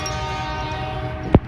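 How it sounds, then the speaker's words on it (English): Train passing with a steady tonal horn blast held throughout, moderately distant, ending in a sharp brief thump, with no talking. "Hey, train, I'm trying to talk"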